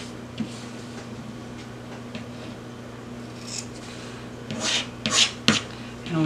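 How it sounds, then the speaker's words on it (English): Scissors clip the fabric corners of a handmade clutch bag, a few quick crisp snips close by near the end, over a quiet room hum. "So I'm just gonna clip my corners."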